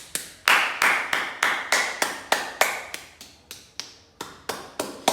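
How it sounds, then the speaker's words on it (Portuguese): A person claps hands in a steady series of about fourteen crisp, close claps, the tone shifting partway as the clap type changes, with no talking. "eu tenho vários tipos de palmas."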